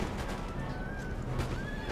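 Horses whinny amid a dense rumbling battle din in Empire: Total War, with a few drawn-out neighs rising above the steady noise of artillery and howitzer fire.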